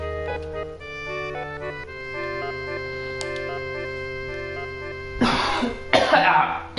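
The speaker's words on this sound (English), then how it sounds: "sorry about that cough." A person coughs twice near the end, two harsh, close, loud bursts cutting over steady game music with sustained tones that plays throughout.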